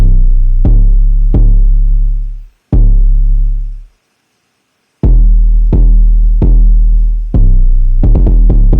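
Booming 808 bass notes from an emotional FL Studio beat pulse in a spaced pattern with long decaying tails and a brief gap of silence, ending in a quick rapid roll of short hits, loud and alone.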